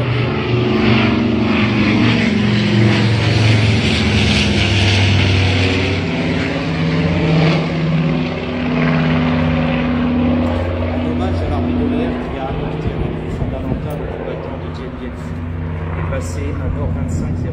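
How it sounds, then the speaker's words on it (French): A Nord 2501 Nord Atlas military transport aircraft passes overhead with a loud, steady propeller drone that rises and then slowly fades, while a commentator speaks over a public address system throughout. "Un Nord 2501 communément appelé Nord Atlas. C'est l'avion de transport militaire qui en 1954 a succédé au Dakota de l'Indochine."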